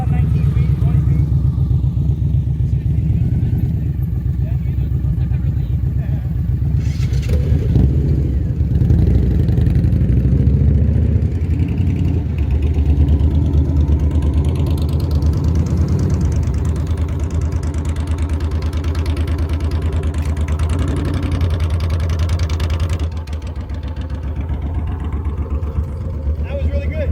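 A motorcycle engine during low-speed riding practice, a steady mid-pitched idle and light throttle rumble that swells briefly and then eases off, close by, with people talking over it.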